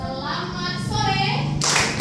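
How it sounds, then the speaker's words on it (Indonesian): A classroom of children claps in rhythm in a school class, the sharp claps sounding close and joined by a chanting voice. "Tepuk dua, tepuk tiga, tepuk empat."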